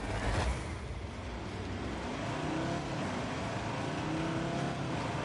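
Cars in The Grand Tour video game set off together, a steady, continuous engine roar with revving that stays at an even, moderate loudness throughout, with no talking.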